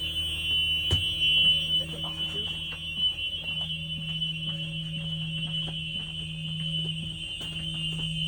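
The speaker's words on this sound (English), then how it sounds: "make sure the light and buzzer work" A Thomas school bus warning buzzer, tested during a pre-trip inspection, drones continuously with a high-pitched whine, sounding close and unbroken throughout, with a few faint clicks in the background.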